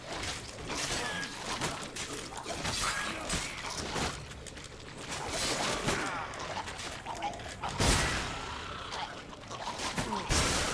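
Enemy blowing up in The Witcher 3: Blood and Wine, a dense run of loud crashing bursts and sharp impacts with whooshes, continuous over about ten seconds of battle noise.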